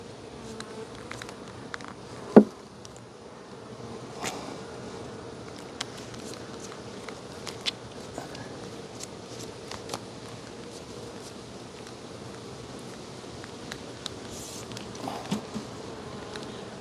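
Honey bees drone in a steady close swarm while being gently brushed off honey supers during a hot-weather honey harvest, with faint taps and shuffles scattered through the buzz.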